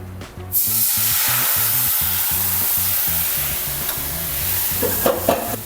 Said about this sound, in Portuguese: E usando a técnica da deglaçagem, a gente vai fazer um molho.